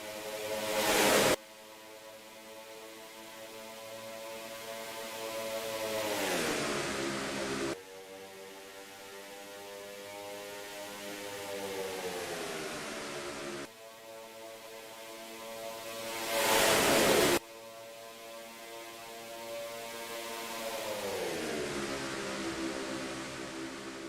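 Race car engines in NASCAR Racing 2003 drone loudly and steadily, their pitch climbing and falling as the cars shift and pass, with abrupt jumps between camera views and no voices.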